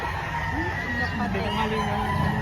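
Chickens and roosters at a poultry market in Padre Garcia, Batangas, cluck and crow amid a noisy crowd, with people talking in the background.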